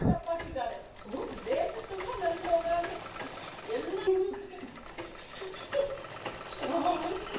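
A sewing machine stitches blouse fabric with a steady mechanical whir, running under a voice or music that carries through most of the clip.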